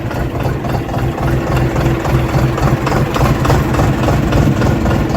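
A Dongfeng DF-244 tractor engine idles steadily and loudly up close, with a deep continuous rumble and rhythmic mechanical chugging throughout.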